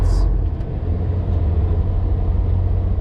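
Heavy truck with an automatic transmission cruising on a highway while hauling mowers, a steady loud low engine and road rumble droning throughout with no clear shift break.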